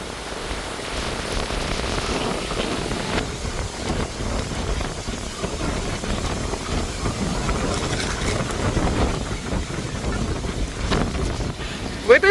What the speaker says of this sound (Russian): Сегодня 24 градуса и адский ветер